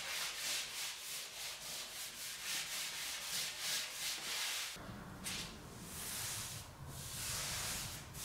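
Sanding a large maple table top after applying finish coats produces steady, continuous abrasive rubbing with a rhythmic back-and-forth pulse, close and fairly loud, shifting in tone partway through, with no voices.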